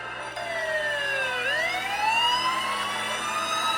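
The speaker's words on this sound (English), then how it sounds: "they awake to sounds of sirens" A loud emergency siren wails steadily, its pitch sweeping down and then climbing back up, over a constant rumble of traffic or engine noise, during the 1980 MGM Grand Hotel fire.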